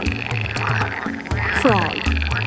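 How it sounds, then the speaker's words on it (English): Frogs croaking close and loud in a steady chorus of quick, rasping pulses, with one throaty call rising distinctly above the rest midway. "Frog,"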